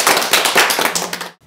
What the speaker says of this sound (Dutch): En nu een daverend applaus.